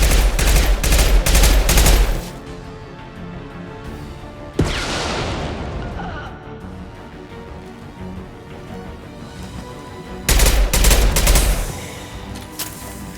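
Rifle fire in a video game, dense and loud automatic bursts that open the scene, a single heavy crack partway through, then another intense volley near the end, with quieter stretches between and no voices.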